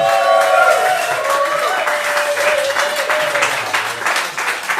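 A live concert audience applauds loudly and steadily, with scattered cheers, while a faint musical tone lingers underneath.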